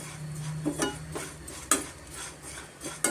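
Flattened rice (avalakki) roasts in ghee in a pan, heard as a quiet bed of sizzle broken by a few sharp clinks and scrapes of a spoon stirring against the metal.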